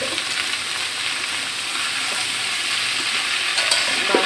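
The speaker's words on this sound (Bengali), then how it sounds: "আমরা একটু ভেজে নিচ্ছি।" Vegetables fry in a pan with salt, giving a loud, even, continuous sizzle and crackle from start to finish, with no talking.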